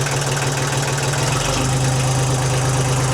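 An old 35-year-old Kubota tractor engine runs at low RPM, a loud, steady diesel drone with a strong low hum and rough, knocking pulses that thicken slightly partway through.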